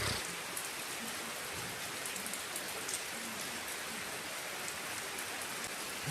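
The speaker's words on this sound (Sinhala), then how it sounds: "අපේ දිහාටත් වහිනවා" Rain falls steadily in Badulla, Sri Lanka, a dense, even patter on surfaces that stays constant throughout, fairly soft and with no talking.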